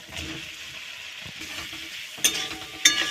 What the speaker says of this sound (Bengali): এবার আলু আর আম ভেজে রাখা দিয়ে দেব